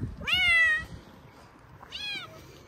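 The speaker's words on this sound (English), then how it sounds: "That one's meowing too." A cat meows twice in a barn, a clear near call followed after a pause by a second, slightly softer one, over quiet background.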